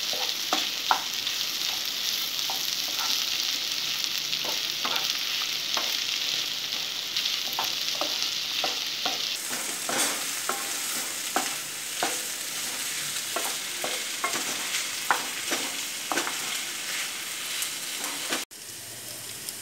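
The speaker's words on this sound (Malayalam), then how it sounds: "പിന്നെ നമുക്ക് മാങ്ങ കൂടി ചേർത്ത് അതേപോലെ തന്നെ ഒന്ന് വഴറ്റിയെടുക്കാം." Mango and carrot pieces for pickle sizzle steadily in a hot pan while a spoon stirs them with repeated scraping taps. The frying is close and continuous, with no talking, and it cuts off abruptly near the end.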